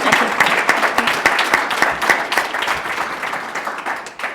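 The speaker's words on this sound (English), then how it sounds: "Please join me in a big round of applause for our" A panel discussion audience applauds for its panelists, dense and sustained clapping from a large crowd at steady loudness that eases slightly toward the end.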